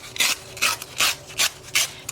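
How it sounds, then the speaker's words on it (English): Blade trimming the paper edge of an altered book along a ruler, five quick rasping strokes in a steady rhythm, close and crisp with no talk. "I'll go ahead and trim this one with the ruler"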